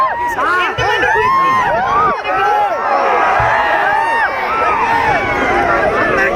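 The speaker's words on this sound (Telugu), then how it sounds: "సో ఒక్కసారి గట్టిగా చప్పట్లు వెల్కమ్ చేద్దాం వారిని కూడా" An audience at a college gathering in Ongole claps and cheers to welcome a guest, a loud, dense wash of crowd noise with warbling, chirpy squeals running throughout.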